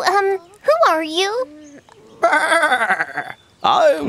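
Wavering, nasal bleats in a goat-like voice, several calls separated by short gaps, loud and close; the cries appear to be voiced imitations.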